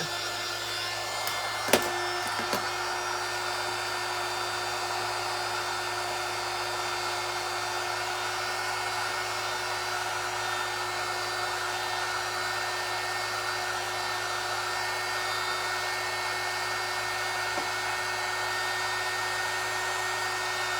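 A hair dryer blows steadily and loudly, drying paint on a faux deer skin sign with a plastic-coated, imitation-wood surface; the motor's whine holds constant for the whole stretch, broken only by a couple of brief knocks early on.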